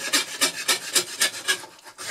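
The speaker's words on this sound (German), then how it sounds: "Lässt sich angenehm sägen" A hand saw fitted with a Skip progressive No. 5 blade cuts through 10 mm birch plywood in steady, close rasping strokes, about four per second, with a short pause before the final stroke.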